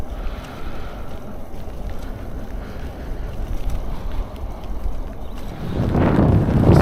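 Wind gusts in Iceland roar and buffet the microphone outdoors, a constant low rumble that swells into a stronger gust near the end.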